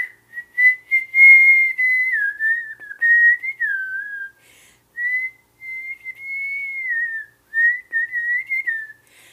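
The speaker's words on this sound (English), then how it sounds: "when you hear the itsy bitsy spider tune" A lone whistler carries the itsy bitsy spider tune from the horror film Us, clear and close, in short melodic phrases separated by brief pauses.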